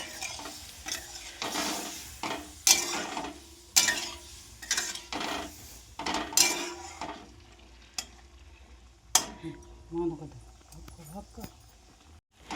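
Potato and mango stirred and fried together in a pan for a kuzhambu, giving a steady sizzle with repeated scraping and clacking strokes of a spoon against the pan, close up and fairly loud.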